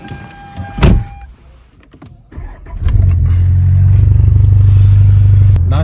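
A car interior in Madina: a sharp mechanical clunk and power-window whir, then the engine starts and settles into a steady, loud drone with faint background clatter.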